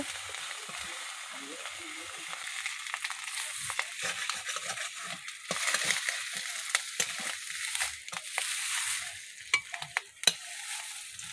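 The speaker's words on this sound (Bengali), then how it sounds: "তারপর আদা দিয়ে দিচ্ছি। এবার একটু নাড়তে থাকবো।" Ginger being stirred in a hot pan, with a steady broadband sizzle and repeated scraping strokes of the spatula, close and moderately loud, with no talking.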